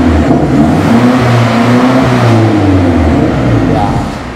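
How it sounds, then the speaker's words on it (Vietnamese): A car engine revs above 3000 rpm, a loud, sustained close-up roar with a rising and falling pitch that eases off at the end. "Em đạp thử tua lên trên 3000."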